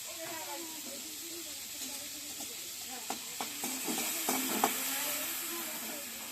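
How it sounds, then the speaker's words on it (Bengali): Soft, steady sizzling of shrimp frying in oil, with faint scraping stirs and a few light taps against the pan. "হালকা ভেজে তুলে নেব বেশি ভাজলে শক্ত হয়ে যায়"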